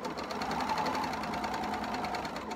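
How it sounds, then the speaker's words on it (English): A serger sewing machine runs continuously while stitching along a fabric edge, a fast even mechanical whir heard up close and alone. "You're also using both hands to maneuver the fabric through the machine."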